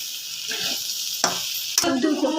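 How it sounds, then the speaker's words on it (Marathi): Potatoes roasting in a pan for bhaji, a soft steady sizzle punctuated by two sharp scrapes of a spatula stirring against the pan, heard up close with no speech. "बटाटा किती छान असा दिसत आहे छान असं भाजून घ्यायचं आहे"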